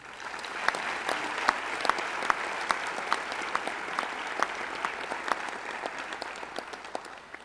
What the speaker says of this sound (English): Please recognize all the new Honor Society initiates at in the College of Communication and Fine Arts with a round of